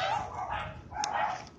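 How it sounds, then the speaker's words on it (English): Several dogs barking and yipping in a home, fairly close and moderately loud, in short overlapping bursts. "our other dogs are barking"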